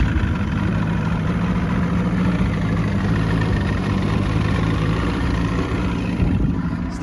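Classic Boston Whaler boat engine idling steadily after starting, a continuous low rumble held at an even, fairly loud level throughout with no talk.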